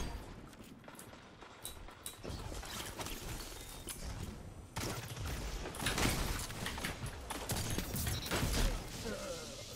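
Shotgun blasts and gunfire from a Destiny 2 Crucible match, sharp bursts scattered through constant busy game noise with mechanical clatter and footsteps, fairly loud throughout.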